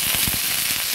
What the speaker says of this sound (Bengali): আমি রসুন, কাঁচা লঙ্কা, শুকনো লঙ্কা ভাজা কড়াইটাতেই দিয়ে দিচ্ছি